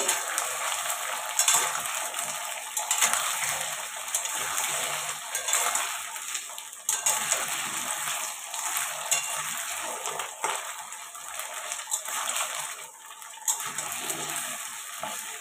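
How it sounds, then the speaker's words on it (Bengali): Taro and potato pieces fry in a pan, giving a steady hissing sizzle with occasional soft stirring knocks, continuous and fairly close with no talking. "কচু আর আলুটা ভাজা হোক"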